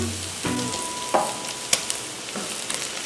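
Beef cracklings fry in a pan for a farofa, giving a steady close-up sizzle with sharp pops and crackles and a few stirring scrapes.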